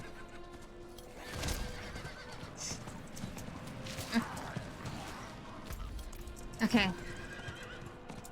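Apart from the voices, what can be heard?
horse galloping and neighing in video game Diablo IV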